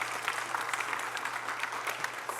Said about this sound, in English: Give yourselves a round of applause for being here because it's amazing.